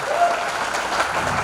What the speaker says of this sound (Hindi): मेरे सभी अपलाइन के लिए एक बार जोरदार तालियां आप लोग जरूर बजाएं।